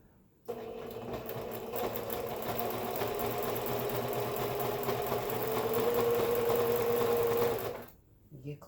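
Near and steady, a sewing machine runs a zigzag stitch through elastic in one continuous whirring burst of several seconds, then stops into near silence.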